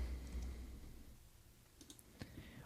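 Several light, sharp computer mouse clicks sound close and quiet near the end, over a faint steady hum, while using a Joomla keyboard shortcuts component.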